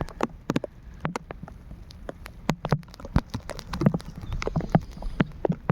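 Rain falling while fishing outdoors, heard as irregular close drips and taps striking a surface, scattered pattering that grows slightly denser toward the end, with no talking.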